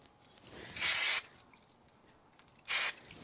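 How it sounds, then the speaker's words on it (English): Two short hissing sprays from an aerosol can of spray glue, about two seconds apart, close by in a quiet room. "I'm going to use a little bit of spray glue on these."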